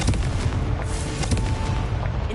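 A Confringo spell explosion in a Harry Potter video game, a dense rumbling blast with crackling bursts sustained across the whole moment, loud and close with no talk over it.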